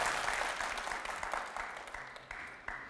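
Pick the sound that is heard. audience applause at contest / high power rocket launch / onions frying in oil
audience applause at contest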